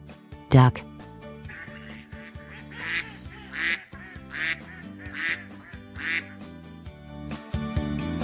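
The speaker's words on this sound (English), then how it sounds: "Duck." A duck quacks repeatedly in short, evenly spaced bursts, about five or six in a row, mid-loud against steady background music.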